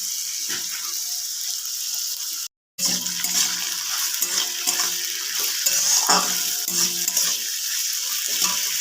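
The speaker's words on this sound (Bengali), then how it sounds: "দুটো সবজি একসঙ্গে ভেজে নেবো" Potato and cauliflower pieces fry together in a pan with a steady close sizzle and occasional stirring clinks, with a brief gap of silence partway through and no talk.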